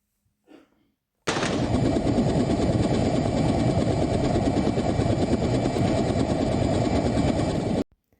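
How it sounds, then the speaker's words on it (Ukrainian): A loud helicopter roar bursts in suddenly, holds a dense, steady rotor-and-engine drone for about six seconds, then cuts off abruptly. "Саме так, це вертоліт."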